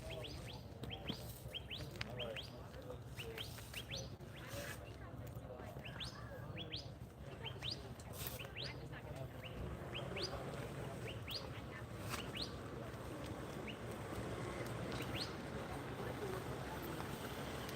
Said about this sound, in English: Hear the bird? There it goes.